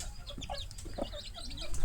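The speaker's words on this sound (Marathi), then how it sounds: "ही कोंबडी प्युअर गावरान आणि उंच पायाची आणि उंच मानेची आहे." A pure desi country hen with long legs and a tall neck clucks in short, repeated bursts close by, over a low farmyard rumble.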